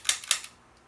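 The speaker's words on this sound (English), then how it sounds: "that's the sound of the disconnector popping off of the sear" Two sharp mechanical clicks close together from the disconnector of an M11/9 submachine gun snapping off the sear in semi-auto mode, then a faint third click and quiet.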